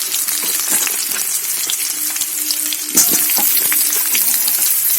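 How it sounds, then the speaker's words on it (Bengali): Potatoes, soon joined by cauliflower florets coated in salt and turmeric, frying in a pan, a loud, continuous close sizzle with a sharp clatter near the middle as pieces go in, no voices. "আলুটাও আমার প্রায় ভাজা হয়ে গেল আবার এর সঙ্গে আলুর সঙ্গে আবার কপিগুলো ছেড়ে দেবো"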